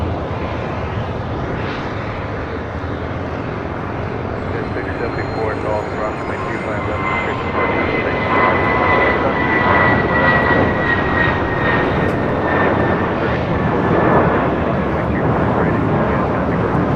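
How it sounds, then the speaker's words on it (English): Airbus A320 jet airliner departing a runway at LAX, a loud continuous engine roar that swells and stays heavy through the second half, with faint radio or voices beneath. "Airlines 816 taking off to Kansas City on an A320"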